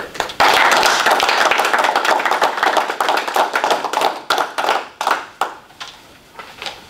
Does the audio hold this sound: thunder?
no